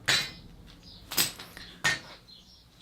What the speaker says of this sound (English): So we'll just take these spring compressors off here.